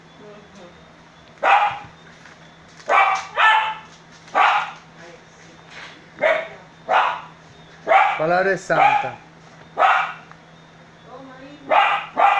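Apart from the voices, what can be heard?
dogs barking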